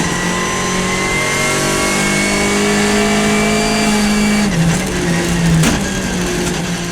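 A Skoda Fabia R5 rally car at full attack on a tarmac rally stage, its engine holding a loud, steady howl before dropping sharply on a gear change and rising again, heard close.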